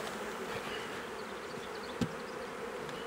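Honey bees drone at an opened hive during honey extraction and fondant feeding: a dense, steady, close buzz with one soft knock partway through and no voices.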